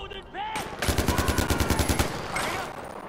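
Rapid automatic gunfire in the video game Far Cry 4, a close, loud burst of evenly spaced shots lasting over a second, framed by brief game effects.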